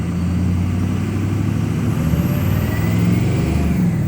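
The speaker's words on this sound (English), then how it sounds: "I'll rev it up again. My foot's to the floor." A 2006 Ford F250 Super Duty pickup's 6.0 Power Stroke diesel revs hard with the pedal to the floor while suffering a hard-start fault, a loud, close, sustained engine roar that climbs in pitch.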